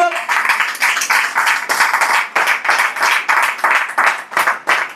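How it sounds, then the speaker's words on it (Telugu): A church congregation claps loudly and steadily at a worship service, many hands in a dense, continuous rhythm of sharp claps that rises and dips slightly, with no voices standing out. "గట్టిగా గట్టిగా గట్టిగా చప్పట్లు కొట్టు."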